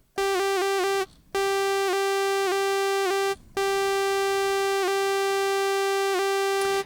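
A Sequential Pro 3 synthesizer plays a bright, buzzy tone shaped by a delayed aux envelope, sounding as a string of sharp repeating pulses with uneven gaps and two brief silences, loud and alone.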